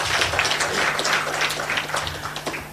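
An audience at a political event on environmental matters claps for a speaker, a brief burst of dense scattered applause that starts full and gradually tapers off.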